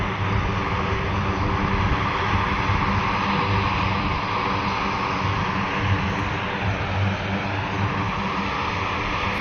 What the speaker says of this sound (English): That's the first time I've seen a C-130 on the move.